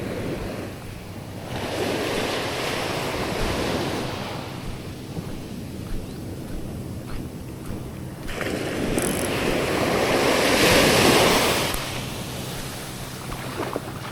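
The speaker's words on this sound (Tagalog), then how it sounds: "medyo malakas lang alon guys no" Strong ocean waves surge and break on a night fishing outing. Wind is mixed in, with louder swells building around the start and again near the end, and no talking.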